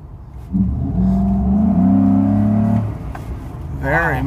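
A Ford F-150 fitted with a Spectre 9976 cold air intake accelerates, a loud throaty engine rising in pitch for about two seconds and then easing off, with someone speaking at the end.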